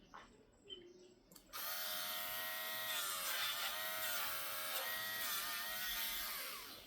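A Dremel rotary tool whirs steadily for several seconds while trimming a puppy's nails, a close, high buzzing grind that starts abruptly after a quiet moment and wavers slightly in pitch.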